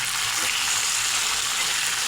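Chicken meat fries in a pan before the spices go in, a loud continuous hiss of sizzling oil, close and steady with no pauses and no talking.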